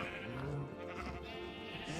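Sheep in the video game Minecraft bleat faintly among steady game ambience and background sounds, with a short low bleat standing out near the start.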